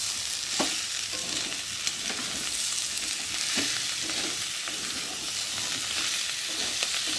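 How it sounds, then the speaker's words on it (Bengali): Spice paste with chopped tomato frying and being stirred in oil for a salted fish curry, a steady close sizzle with repeated scraping stirs throughout and no talking. "এবার দিয়ে দেবো একটা টমেটো কুচি, দিয়ে মশলাটা ভালোভাবে কষিয়ে নেব।"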